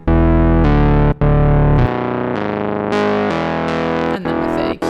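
Arturia Mini V4 software synth bass with no EQ applied, played alone: loud, buzzy sustained bass notes that change pitch every half-second or so, close and unaccompanied.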